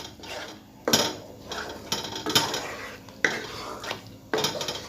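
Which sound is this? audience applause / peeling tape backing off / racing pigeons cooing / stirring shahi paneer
stirring shahi paneer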